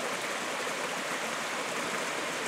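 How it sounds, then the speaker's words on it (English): Fresh, clear water flows steadily in a mountain stream between rock walls in the Sierra, a continuous broad rushing wash at moderate level with no voices. "It's all fresh flowing water"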